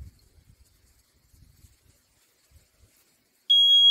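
Water leak detector alarm aboard a boat, a loud, steady high-pitched electronic tone that cuts in suddenly near the end after quiet handling noises and faint low thumps.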